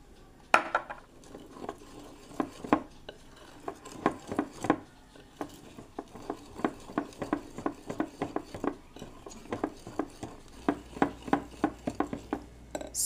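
Ube pancake batter being mixed in a bowl: fast, steady scraping and tapping of a utensil against the sides, a rapid run of small clicks that goes on for several seconds, moderately loud, with no talking.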